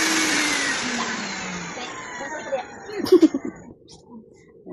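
A vacuum cleaner runs in a room, its steady whining drone winding down partway, followed by some knocking and handling noises.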